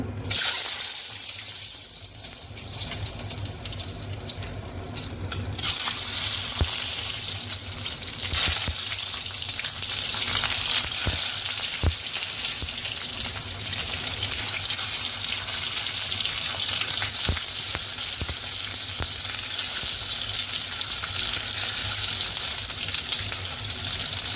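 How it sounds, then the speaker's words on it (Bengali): Boiled eggs frying in oil with cumin seeds in a pan, a loud continuous hissing sizzle held steady close by, with occasional faint clicks of stirring. "ডিমটা ভেজে নেবো।"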